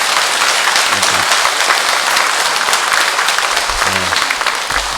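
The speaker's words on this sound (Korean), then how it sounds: "우리 이분들을 환영의 박수를 한번 해주십시다." A church congregation claps together in sustained, dense applause, loud and even throughout, with a few faint voices underneath.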